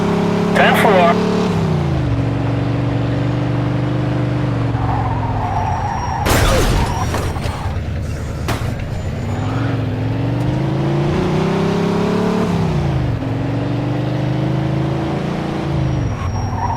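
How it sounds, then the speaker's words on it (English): Speeding car in a police chase in the video game Mafia 2: a steady engine drone with pitch rising and falling as it accelerates, a loud crash and shattering midway, with voices talking over it. "In pursuit of a speeding vehicle"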